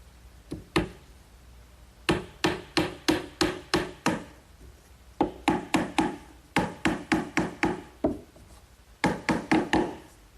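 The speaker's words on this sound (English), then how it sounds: "I'm just going to set these in place with some 4-penny finish nails" Hammer driving 4-penny finish nails into wood while building a sandbox, close sharp taps in quick bursts of several strikes each, with short pauses between the runs.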